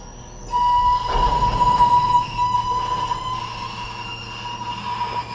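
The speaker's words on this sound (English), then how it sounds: "It's a garbage truck with squeaky hydraulics." Garbage truck with squeaky hydraulics on an early Sunday morning street, a steady mechanical rumble with a sharp high-pitched squeal running through, fairly close and loud, no voices.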